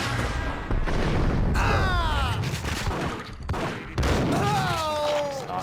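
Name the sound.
shotgun firing in video game Max Payne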